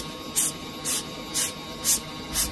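A hand pump pushes spray through a petrol car fuel injector during cleaning: five short, regular bursts of hissing spray roughly half a second apart over a steady low background hum.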